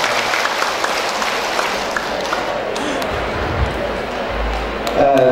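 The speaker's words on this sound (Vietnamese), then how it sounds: "xin các quý vị một tràng pháo tay" Broad, steady applause from an audience in a hall at a community health day event, continuing for several seconds with some crowd murmur and a voice speaking near the end.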